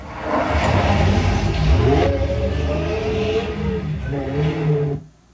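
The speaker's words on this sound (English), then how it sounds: "Hear the supercharger?" A supercharged car on a dirt and gravel driveway revs loudly and close, with rising and falling engine pitch and a whine layered over the roar before cutting off abruptly near the end.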